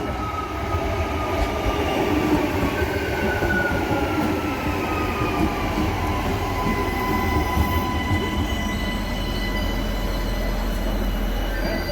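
Adelaide 3000 class railcar passing close by at a station, a loud continuous rumble with squealing wheels and rising and falling whines throughout, no talking.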